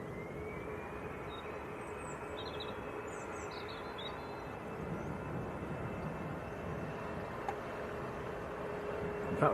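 A Eurowings airliner at Manchester Airport gives off a distant, steady jet engine roar that holds at a fairly even level across the open airfield, with only faint outdoor background.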